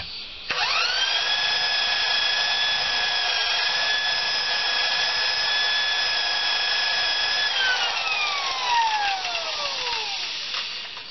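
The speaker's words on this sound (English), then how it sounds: "To make sure that bit doesn't overheat while I'm drilling" A power drill whines steadily at high speed for several seconds drilling into a thick piece of metal on a zero-turn commercial mower, then winds down as the motor slows and stops.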